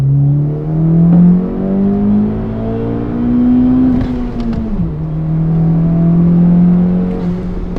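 A second-generation Chevrolet Cruze turbo engine revs up toward 7,500 RPM, a loud, steady droning rise that dips and climbs again, heard alone up close without any talk.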